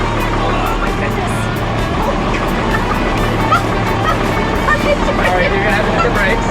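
The Cummins diesel in a swapped Chevrolet C10 runs in a steady, loud, rough drone while the truck is powerbraked against held brakes. There is no clear rise or break in the engine note, and people talk over it.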